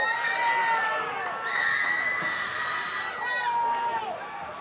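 A crowd at a high school football game cheers and shouts in a sustained, loud roar, with whoops and children's voices rising over the general din.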